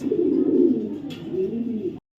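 A female racing pigeon coos up close, a low throaty warble that swells and falls twice before stopping abruptly.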